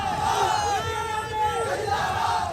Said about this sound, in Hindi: बक्सर रेलवे स्टेशन पर जमा ये भीड़ सेना में भर्ती के लिए तैयारी कर रहे छात्रों की है